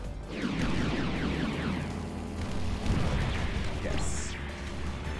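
In the aerial combat video game Sky Rogue, an enemy blows up in a rumbling explosion with a rushing burst and trailing debris roar, heard amid ongoing game noise.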